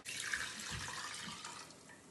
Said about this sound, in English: Now that we have the toasted spices in the pot, we have to get 2 quarts of water.